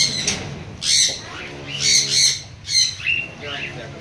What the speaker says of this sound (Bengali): গিয়ে পাখিগুলো দেখাই তোমাদেরকে